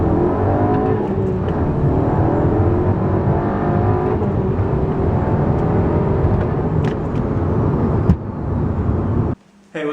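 A 2011 Audi A3 with a K&N cold air intake pulls hard in third gear from a rolling start, a loud steady engine drone heard from inside the cabin that cuts off near the end.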